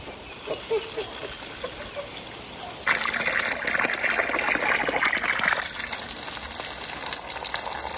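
A garden hose sprays water onto a dog being bathed outdoors to cool her down. A steady gush grows louder and fuller for a few seconds in the middle, then eases back to a softer trickle.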